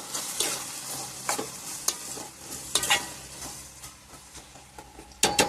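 Eggplant pieces frying in a pan for a dry curry, stirred with repeated scraping strokes over a soft continuous sizzle, close and moderately quiet.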